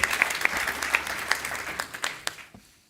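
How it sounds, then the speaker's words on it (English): An audience at a Microsoft-related influencer event applauds with dense, steady clapping and sharp individual claps on top, close and fairly loud, fading out over about three seconds. "we're giving him a round of applause for getting the mic"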